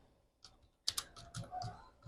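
Code being typed on a computer keyboard: a quiet run of a few sharp key clicks with small gaps, close and clear with no one talking.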